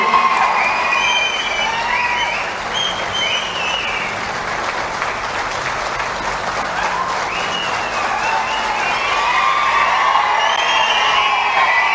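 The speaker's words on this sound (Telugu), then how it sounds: "దయచేసి చప్పట్ల ద్వారా మీ హర్షాన్ని తెలియజేయాల్సిందిగా కోరుతా ఉన్నాను" A political rally audience applauds and cheers steadily at an announcement, with dense, sustained clapping mixed with shouts and whoops, loud and continuous throughout.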